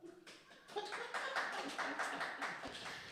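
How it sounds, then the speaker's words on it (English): Studio audience clapping on a talk show, a scattered burst of hand claps that thickens into steady applause for about three seconds, fairly close and moderately loud, with possible light chuckles mixed in. "Studio audience, if you think she should get back to running, clap."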